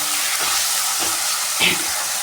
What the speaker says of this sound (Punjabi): ਹੁਣ ਇਹਦੇ ਵਿੱਚ ਐਡ ਕਰ ਦਾਂਗੇ ਕੱਟਿਆ ਹੋਇਆ ਟਮਾਟਰ ਬਰਛੀ ਨਾਲ ਇਸ ਨੂੰ ਚੰਗੀ ਤਰ੍ਹਾਂ ਮਿਕਸ ਕਰ ਲਵਾਂਗੇ